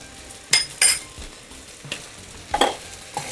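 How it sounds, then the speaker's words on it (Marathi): Spiced rice sautéed with biryani masala for masale bhat: loud spoon scrapes and clanks against the pot in irregular bursts over a quiet background sizzle, no talking. "हे छान परतून घ्यायचं बिर्याणी मसाला घातल्यावरच एक सुगंध छान यायला लागला"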